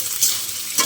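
Sliced red and green capsicum frying in a pan under a steady sizzle, with two quick stirring scrapes close by and no voices.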